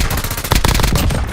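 Rapid automatic gunfire in the video game Warzone, a loud close burst of many quick shots in a fast, even rhythm across the whole moment.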